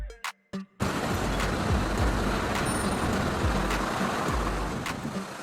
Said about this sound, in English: Fire and rescue bus, a converted bus used to evacuate people from fire zones and transport rescue equipment